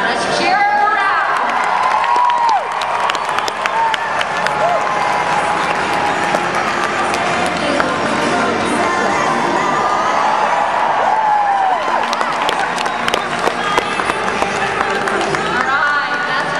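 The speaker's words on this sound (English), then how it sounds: "Let's cheer her around!" A crowd cheers, whoops and applauds steadily throughout a horse competition as a rider begins her free ride in the arena, with loud continuous shouting and clapping close by.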